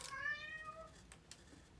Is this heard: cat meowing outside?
yes